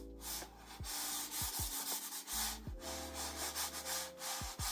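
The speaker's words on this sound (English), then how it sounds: "Once my skates get even a little worn, like with my Obsidians after 3 months, they start producing this unpleasant, scratchy noise" Worn mouse skates scrape across a glass mousepad in repeated close, rough strokes, each pass giving a harsh scratchy rasp with squeaky edges at the turns, heard alone.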